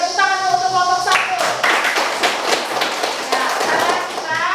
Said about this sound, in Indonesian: Jadi tepuk tangan dulu untuk kelompok 1.